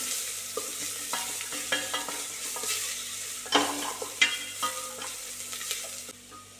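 Chopped garlic and ginger fry in hot oil in a pan for a Kerala-style masala curry, a steady close sizzle broken by stirring scrapes and sharp utensil clicks against the pan.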